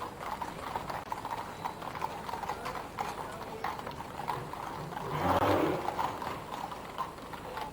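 Horses pulling a gun carriage at a state funeral clip-clop in a steady, even walking rhythm on the road, moderately distant, with a brief swell of crowd or ambient noise partway through.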